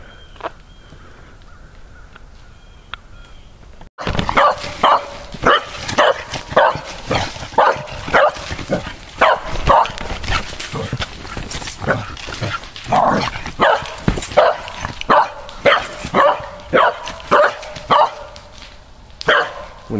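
After a few quiet seconds, dogs break into frantic, repeated barking and yelping, loud and close, continuing without letup.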